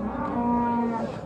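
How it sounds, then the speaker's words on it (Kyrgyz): At a livestock market, a large cow lets out one sustained, close moo lasting just over a second. "Мына ушул чоң уйлар турат, ала уйлар туугандар."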